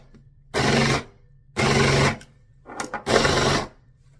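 A small electric grinder chopping dandelions whirs in three short bursts of about half a second each, loud and close, separated by brief pauses with a rattle before the last pulse.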